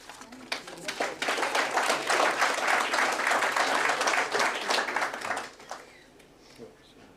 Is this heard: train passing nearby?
no